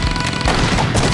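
Grenades exploding in the Age of Zombies video game, a dense, loud burst of overlapping blasts and crackling detonations filling the whole short moment without pause.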